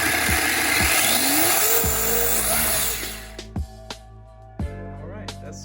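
An RC Slash car's electric motor on a 3S pack whines and spins up through a slow throttle run, a rising mechanical whir that cuts off, followed by a few short throttle blips, close and fairly loud.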